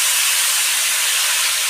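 Greens dropped into hot oil with a hilsa fish head, giving a loud, continuous, close-up hiss of sizzling that holds steady without a break.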